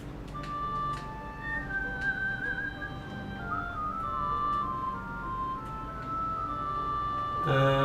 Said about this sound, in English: I should probably keep the amount of whistling I do on stream down.